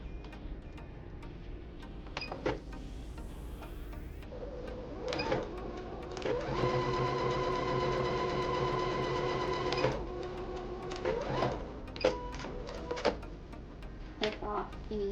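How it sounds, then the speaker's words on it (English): A sewing machine runs briefly at a soft, steady whir, top stitching closed the opening of a fabric scrunchie, surrounded by ticks and handling clicks and quiet speech. "you're going to do a very close top stitch where your opening is"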